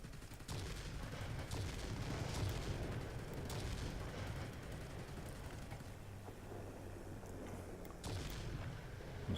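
Aircraft strafing an anti-aircraft battery in the World of Warplanes video game, dense rumbling gunfire and booms running almost continuously, with a short lull before the firing picks up again.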